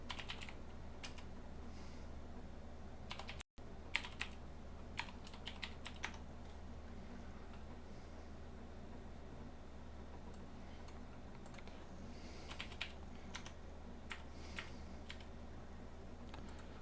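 Rapid clicky typing on a computer keyboard, with bursts of fast keystrokes over a low steady electronic hum, close and continuous.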